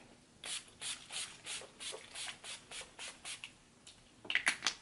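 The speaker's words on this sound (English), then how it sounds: "now I'm going to set the face with NYX Dewy Finish Setting Spray" A series of short, soft bursts of NYX Dewy Finish Setting Spray onto a face, repeating at a steady rhythm, close and fairly quiet, ending in a quicker cluster of sprays.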